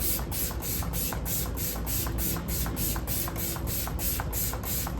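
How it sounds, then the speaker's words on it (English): A continuous fine hissing spray of makeup setting spray onto a face, close up, with faint repeated clicking or pumping pulses through it and no voices. "All that's left to do is spray my face"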